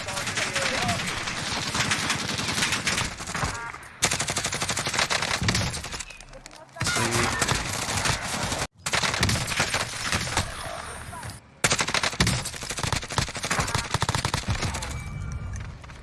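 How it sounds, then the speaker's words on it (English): Rapid automatic fire from a GRAW rifle in a video game, loud sustained bursts with crisp hit-marker ticks layered over the shots, broken by a few brief pauses, with a voice talking over the gunfire. "Love those hit markers from this gun."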